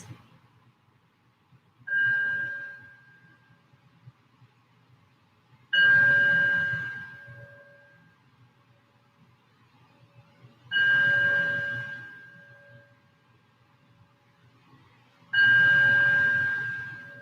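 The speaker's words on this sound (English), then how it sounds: "as I ring the bell to welcome us into our practice" A bell rung to open a yoga practice sounds four times with evenly spaced, clear metallic strikes, each ringing out and fading slowly, against a quiet, low background hum.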